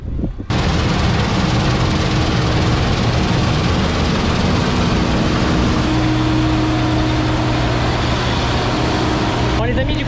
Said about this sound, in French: Je pense que la batteuse elle revient et puis ça sera bon.